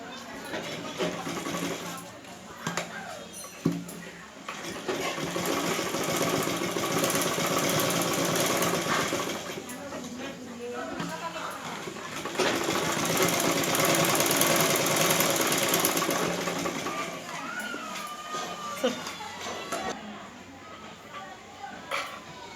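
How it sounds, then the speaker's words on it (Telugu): A sewing machine stitches a blouse back neck design, giving a steady mechanical whirring run that rises and falls with brief pauses, with a voice present underneath. "ఇంకోటి కూడా ఇటు సైడ్ పెట్టుకొని స్టిచ్ చేసుకోవాలి."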